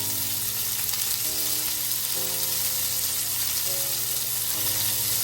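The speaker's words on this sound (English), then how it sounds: "After we add our oil, then we're going to add the asparagus right afterwards. Add your asparagus and blister." Asparagus blistering in hot oil in a pan gives a steady, close sizzle that holds even and unbroken throughout, with no voices over it.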